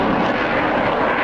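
A Sukhoi Su-30 MKI fighter jet of the Indian Air Force roars overhead, its loud engine noise a steady, dense rush with no break.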